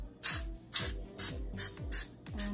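Cooking spray hisses onto a non-stick pan in five short bursts, each a brief near spray spaced about half a second apart.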